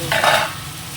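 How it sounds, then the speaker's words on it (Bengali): Ginger paste and tomato frying in a hot pan, a brief burst of sizzling and stirring that swells and then settles to a softer background hiss, with no talking. "এটা একটু ভেজে নিয়ে আগে তাহলে কাঁচা গন্ধটা চলে যাবে"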